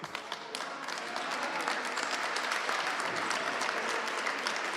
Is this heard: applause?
yes